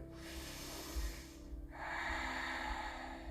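Audible inhalations during a guided yoga session on a mat, several soft, airy breaths close to the microphone, with a longer, stronger intake of breath near the end and no talking.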